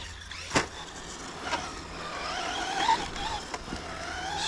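Traxxas Slash 4WD brushless RC car (BL-2S) driving on carpet indoors, a steady electric motor whine with rising and falling pitch, moderately near, with a few sharp clicks and thumps as it runs.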